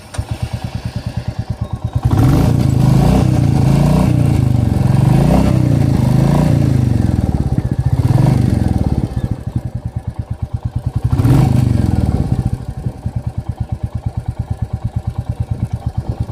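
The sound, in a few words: Royal Enfield Classic 350 motorcycle engine idling, exhaust sound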